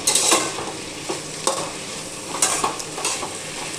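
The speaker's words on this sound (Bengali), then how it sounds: "দেখো শাকটা ভাজা হয়ে গেল, একদম শুকনো শুকনো করে গরম ভাতের সাথে দারুণ লাগবে।" Saag greens fry with garlic in a hot pan, giving a continuous sizzle broken by several sharp scraping stirs against the pan. The sounds are close and carry no voices.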